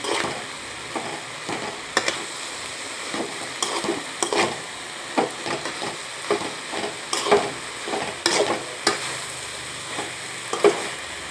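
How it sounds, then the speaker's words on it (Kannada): Flat beans (chavali) being pan-roasted dry without water, stirred with a utensil that scrapes and taps the pan in a regular rhythm over a steady soft sizzle, close and alone. "ಇದನ್ನೆಲ್ಲ ಮೇಲೆ ಕೆಳಗೆ ಮಾಡಿ ಚೆನ್ನಾಗಿ ಕಲಿಸ್ಕೋಬೇಕು"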